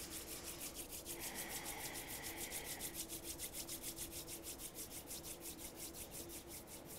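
Palms rubbed briskly together during a Kundalini yoga meditation, a soft continuous swishing friction that pulses in an even rhythm, quiet and close, with no voice over it.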